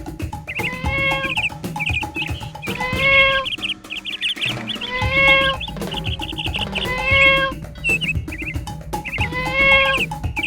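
A small cat meows repeatedly in high, plaintive cries, close and clear, with short pauses between calls over light background noise.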